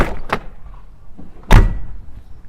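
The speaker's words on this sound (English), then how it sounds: "just listen to the door as well, guys. It's an absolute bank vault." A Mercedes W124 coupe door shuts with a solid, heavy thud, close and loud, after a lighter click earlier.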